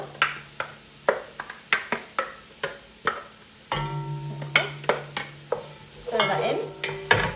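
Lentil and walnut paste being stirred into a sizzling ragu, a spoon scraping the pan in steady repeated strokes over a soft frying hiss, close and alone.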